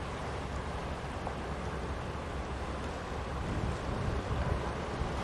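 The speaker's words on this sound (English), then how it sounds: "Sailing up the river, we now see the tug FELIX" Tug FELIX on the River Thames near Gravesend and Tilbury, heard as a steady low rumble with water wash and heavy wind buffeting the microphone, with no voices.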